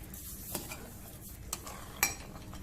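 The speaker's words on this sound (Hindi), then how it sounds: "आप अपने टेस्ट के अकॉर्डिंग ऐड कर और अच्छे से पूरी शुगर को मिक्स कर दें" A spoon stirs sugar into carrot halwa in a pan, making quiet scraping and soft sizzling with a few brief clinks against the metal. The sounds are faint and close.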